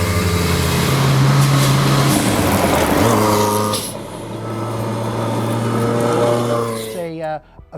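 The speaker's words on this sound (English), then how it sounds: "You've got the noises, you've got the wastegate dumping from the turbocharger, wastegate dumping from the supercharger" A Lancia Delta S4 rally car engine, turbocharged and supercharged, roars loudly and steadily before its note drops and settles, then wastegates dump with a sharp fluttering hiss near the end, while someone talks over the noise.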